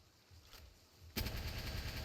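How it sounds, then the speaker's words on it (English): A rocket launcher fires in the Palworld video game, a sudden loud broadband blast that erupts partway through and rumbles on with dense rattling impacts after a quieter stretch of game ambience. "let's see what this rocket launcher can do"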